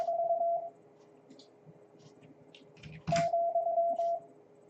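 Morse code CW keyed from a computer keyboard sends a clear steady tone in rapid dits and dahs, two bursts at moderate level separated by a pause with faint background noise.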